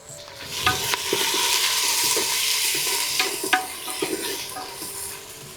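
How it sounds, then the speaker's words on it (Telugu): Onions sizzle and fry in a pan with ginger-garlic paste for a Telugu-style crab dum biryani, with steady broadband frying noise and a few louder stirring scrapes and clinks throughout, no talking. "ఇప్పుడు ఉల్లిపాయలు వేసుకొని బంగారపు కలర్ వచ్చేదాకా వేపుకుందాం."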